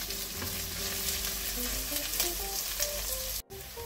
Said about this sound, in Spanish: Vamos a cocinarlo un poquito con el sofrito.